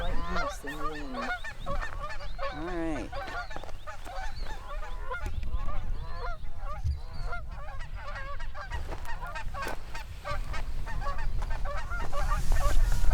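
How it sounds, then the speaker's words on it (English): Geese honking repeatedly beside a trout stream in spring, a chorus of nasal calls close by, with someone briefly speaking and rustling movement underneath. "Just like geese in the wind."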